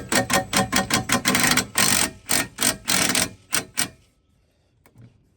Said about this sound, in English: So I just got my screw gun here with a socket on it.